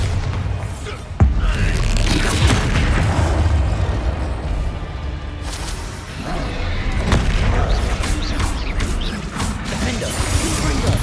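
Bombarda blasting spell explosions in the Hogwarts Legacy video game, a sharp blast followed by a continuous roar of rumbling detonations, crashes and spell effects amid combat noise, with voices shouting over it.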